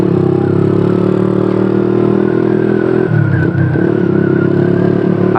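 A Honda CB motorcycle built around a 160 cc Honda Tiger Evo engine hums loudly and steadily while riding, with a slight dip in pitch midway as it shifts.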